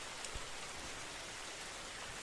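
Steady rain pours down in a soft, even hiss with scattered drops ticking on surfaces, faint and continuous with no voices.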